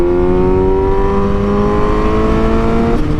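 A Suzuki GSX-S 750 motorcycle with a catless exhaust roars loud and close, its engine holding a steady droning tone with a slight pitch drift.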